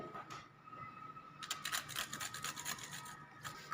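Raw pistachio is grated by hand over a dessert mix for homemade royal rajbhog ice cream, giving soft, close rasping strokes in quick succession with no speech.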